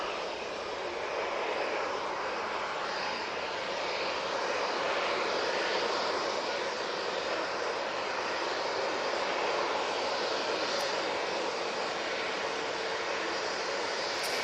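Distant, steady roar of an Enter Air jet aircraft taxiing at Manchester Airport, a broad, even engine whine heard faintly from afar with no talk.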